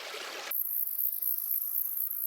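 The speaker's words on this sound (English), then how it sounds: "There's some super loud insects chirping." A loud, piercing cicada drone switches on abruptly and holds a steady high buzz, following a brief burst of rushing noise, in a small wash along the Ozark Highlands Trail.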